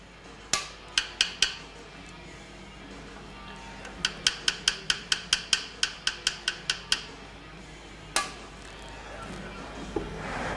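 Light metal taps on screws while an optic is mounted, a quick cluster of three near the start, then a steady run of about a dozen evenly spaced clicks and one more tap later, close and crisp over a quiet room.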